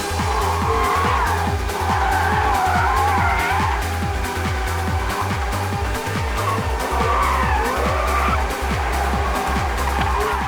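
A Porsche Carrera GT's V10 engine revs hard and loud, with rapid gear changes and tires squealing and skidding in repeated bursts across the whole stretch.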